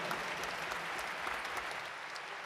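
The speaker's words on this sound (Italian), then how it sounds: "Alessia Masi, Davide Piaggio meritano veramente un grandissimo applauso" An audience at a Christmas charity concert applauds warmly, steady dense clapping from a crowd, heard at a moderate distance without interruption.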